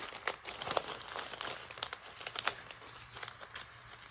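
Sheets of tracing paper handled close up, giving crisp, faint crinkles and rustles in quick irregular bursts over a quiet background.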